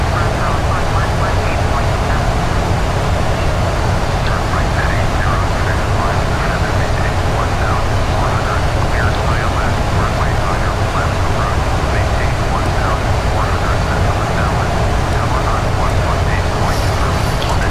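Airliner descending with airbrakes out in the PMDG flight simulator game, shown as a steady, loud cockpit engine and airflow roar that holds unbroken throughout.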